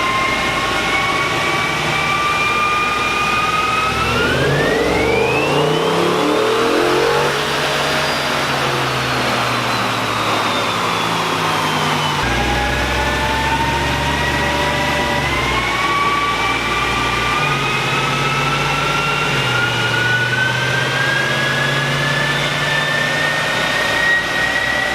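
A 2021 Ford Shelby GT500 on a chassis dyno, its engine loudly revving up through rising, whining pulls that climb in pitch, drop back, then climb again over a constant roar of roller and blower noise.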